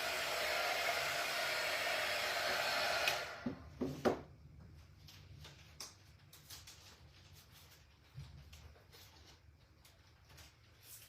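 A hair dryer blows steadily and fairly loudly on a craft door hanger for about three seconds, then shuts off. Scattered light taps and small handling sounds follow in the quiet room, with no talking.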